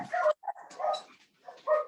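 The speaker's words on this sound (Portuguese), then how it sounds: "Eu vou mandar esses cachorros calar a boca rapidinho" Dogs barking nearby in a few sharp bursts separated by short pauses, loud and close, with no talking.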